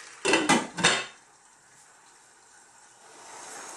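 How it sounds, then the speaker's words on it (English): A lid set onto a pot of zucchini softening over medium heat: three quick metallic clanks close together near the start, then a quiet low hum. "Lid on."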